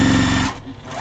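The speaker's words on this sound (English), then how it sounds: "I'm trying to sew it straight" A sewing machine stitches fabric scraps together into yardage, a loud close rapid mechanical whir for about half a second before it slows and stops, leaving quieter handling noise.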